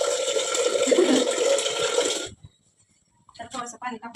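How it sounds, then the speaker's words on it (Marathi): Water pouring and sloshing into a cooking pot to rinse it, a loud gushing splash for about two seconds that stops abruptly, followed by a pause and then a person talking. "तर थोडंसं पाणी टाकू आपण, भांडं पण धुवून घेऊ"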